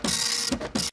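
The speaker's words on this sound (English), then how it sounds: "you've probably heard dot matrix printers before" Harsh mechanical buzzing of a dot matrix printer printing, in two rapid bursts separated by a brief pause, close and loud.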